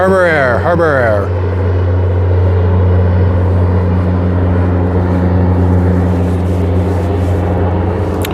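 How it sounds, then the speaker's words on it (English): A Harbour Air floatplane takes off from the water in Vancouver, its engine a loud, steady droning rumble that holds throughout, with a brief voice at the start. "we got a plane taking off"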